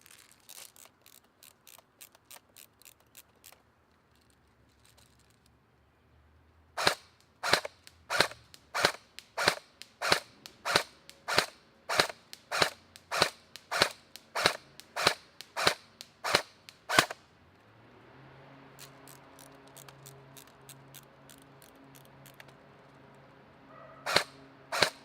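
Ares TAR-21 Tavor carbine airsoft electric gun firing at outdoor targets, a long string of sharp, loud single shots in steady rhythm with brief pauses, plus quieter clicks and a mechanical whir between bursts; no talking.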